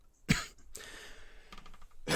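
A single sharp cough, then breathy throat noise, with another cough starting at the very end.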